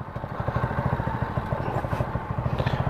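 Borrowed motorcycle engine cranking and chugging rhythmically without catching, a steady near clatter of repeated pulses, fairly faint.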